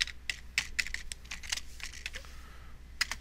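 Bursts of quick, light keystrokes on a computer keyboard, typing into the Unreal Engine editor, come in short irregular clusters at close range in a quiet room.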